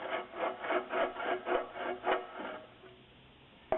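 Rhythmic scraping strokes scribing a cutting line, about eight in a row, close and fairly loud, slowing and fading toward the end.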